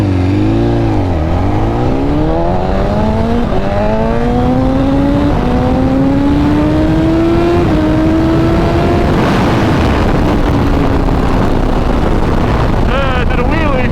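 BMW S1000RR sport bike engine held in second gear on the highway, loud and close, revving up in a long rising sweep, then holding steady before easing off under wind noise.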